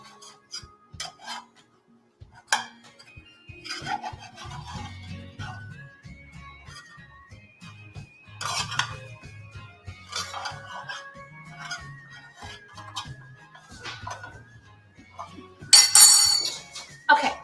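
A bread pan is handled in a kitchen as a loaf is flipped out, giving scattered metallic clinks and knocks with a louder clatter near the end, quiet room tone between.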